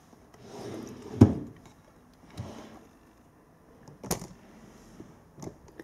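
A drawer in a make-up storage unit slides open with a soft wooden rub and a bump, then a few lighter scrapes and knocks follow, close by in a quiet room.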